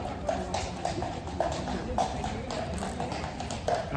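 Horse hooves clip-clop in a steady, evenly spaced rhythm from a horse-drawn carriage in a Kraków street, moderately near, with faint background voices and street ambience.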